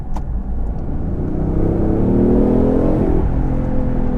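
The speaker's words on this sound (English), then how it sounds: "you even get the overrun and the exhaust" A 2016 BMW i8 hybrid engine drones steadily and rises in pitch as it accelerates, with a low exhaust rumble and faint overrun crackle as the revs fall back.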